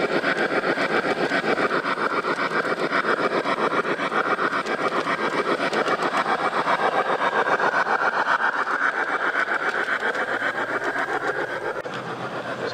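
A PIKO BR 050 model steam locomotive runs with its onboard sound on a DC layout, giving a steady, continuous chuffing and rail noise that lasts throughout at a constant, fairly loud level.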